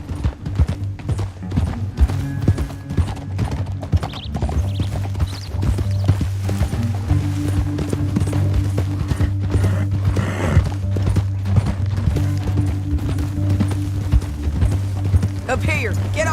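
Horses clip-clop at a run in Red Dead Redemption 2, a steady mid-close hoof rhythm with an occasional whinny, under a sustained low musical drone and intermittent speech.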